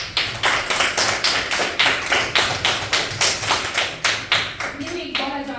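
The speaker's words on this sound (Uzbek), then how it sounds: "O'rtoqlarimizni olqishlab qo'yaylik." Schoolchildren in a second-grade maths class clap together in a steady, fast rhythm of close, even claps lasting several seconds, with a few voices rising faintly near the end.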